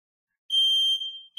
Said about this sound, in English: Ah, it's a smoke alarm.